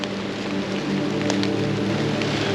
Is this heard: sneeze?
no